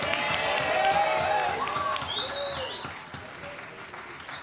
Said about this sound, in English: Big round of applause for Nate.